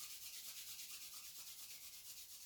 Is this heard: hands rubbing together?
yes